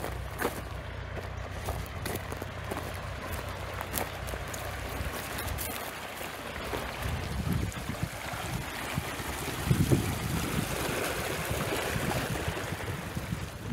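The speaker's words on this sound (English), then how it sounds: "This stream runs year round." A year-round mountain stream runs steadily, a broad soft wash of flowing water with faint irregular splashing, moderately distant and unbroken throughout.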